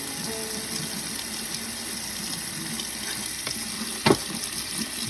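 Tomato seeds being rinsed in a screen under a running tap, a steady close stream of water with one brief louder splash near the end.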